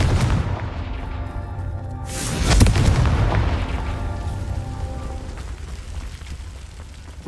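Fiery Confringo spell blast in Hogwarts Legacy, a loud rumbling boom that swells mid-way and then rolls off into a long decaying roar.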